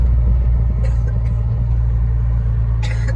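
A car running steadily during a driving lesson, its low engine rumble constant and close throughout with no talk over it, and a few faint higher rattles breaking through.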